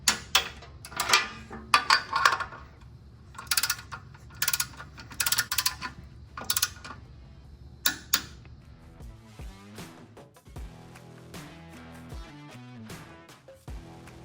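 Ratchet clicking in quick bursts while torquing down flywheel bolts during a ZF5 transmission swap on an OBS Ford truck, with metallic clanks, close and busy, and a background music track later.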